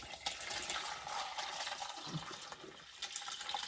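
Chicken broth is poured off from a pot, a soft continuous liquid stream with faint splashing, fairly quiet and steady.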